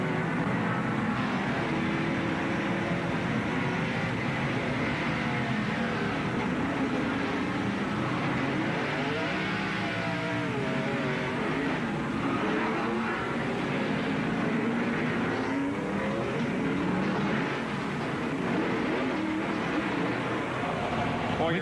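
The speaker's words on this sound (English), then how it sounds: "We could hear Terry Labonte nail the accelerator as he was in the middle of the spin" Inside a stock car at the 1994 Save Mart Supermarkets 300, a loud engine roars and revs steadily throughout as the driver floors the accelerator mid-spin, with broadcast commentary talking over it.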